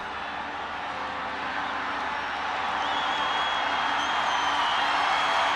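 Stadium crowd at a women's international football championship final between Myanmar and Nepal, a broad continuous roar of many voices that swells slightly, steady and distant-sounding with no single voice standing out.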